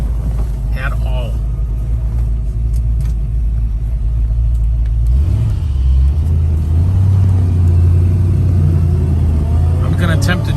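A restored 1966 Ford Mustang idles and then pulls away, its low engine rumble steady and close. The note rises in pitch as the car picks up speed midway, with faint clicks and a brief high squeak at the edges.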